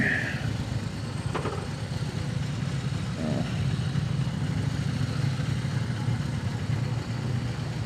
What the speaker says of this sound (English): Old Paul working that clutch on that thing.